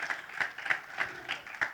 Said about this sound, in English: So can we just clap for this man?